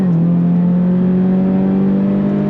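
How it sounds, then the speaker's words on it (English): A Toyota GR86 with an aftermarket exhaust pulls on throttle, a steady, loud droning exhaust note holding nearly constant pitch, close up and with no talk over it. "with this exhaust, it sounds glorious"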